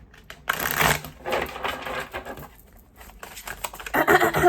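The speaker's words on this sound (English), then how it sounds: "one more shuffle" A deck of tarot cards is shuffled by hand in bursts of riffling and patting, close and fairly loud, with a brief pause in the middle before a sharper final flurry.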